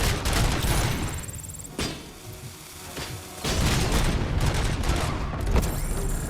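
Enemy sniper fire in Robocop: Rogue City, sharp gunshot bursts and booming impacts crackling through a dense, noisy firefight, loud and close with brief lulls between volleys.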